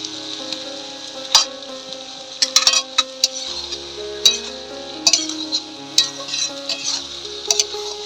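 Fried prawns tip into a pan of village-style vegetable curry over a wood fire, with steady stirring and sizzling, sharp clinks of utensil on pan and scattered clatters up close.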